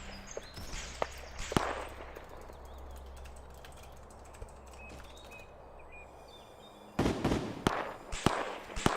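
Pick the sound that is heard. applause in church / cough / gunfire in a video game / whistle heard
gunfire in a video game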